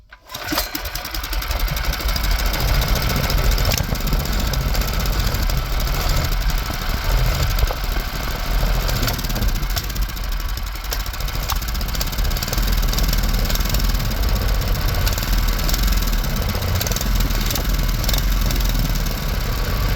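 A small pull-start engine, found sunken and run with WD-40 added to its fuel, runs continuously at a steady, loud, buzzing rev close by with no talk.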